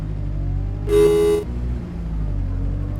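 A steady low bus engine rumble in the game OMSI 2 runs throughout, broken by one short horn toot about a second in.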